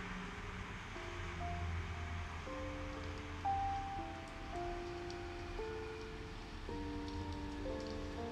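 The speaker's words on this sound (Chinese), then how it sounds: "今天的雨声已经够多了" Rain falling outside a window makes a steady, soft, continuous hiss. Quiet sustained tones are layered over it throughout.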